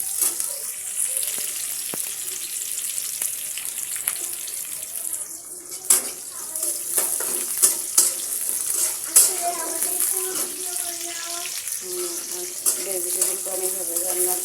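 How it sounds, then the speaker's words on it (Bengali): Vegetables fry and get stirred in a pan, producing a continuous sizzling hiss with scraping and clinking of a utensil, close by, while someone talks intermittently over it. "ভেজিটেবলটা আমি এভাবে রান্না করি"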